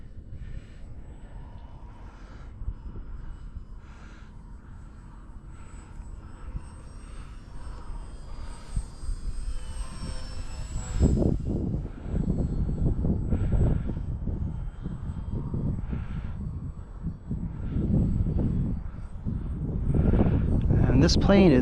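A small FMS F4U Corsair 800mm V2 RC model plane flies overhead, its electric motor whining and droning near then farther, with wind buffeting the microphone and a person talking over it.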